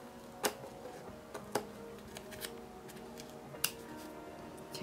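Scissors snipping kitchen paper to shape a facial mask, giving a few faint, sharp, widely spaced snips in a quiet room.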